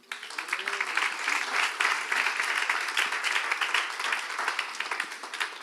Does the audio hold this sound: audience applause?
yes